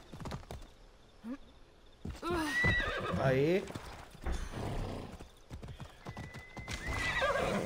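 A unicorn mount in Assassin's Creed Odyssey gallops with rhythmic hoof clip-clops and lets out a loud, drawn-out whinny, close up, while someone talks over it.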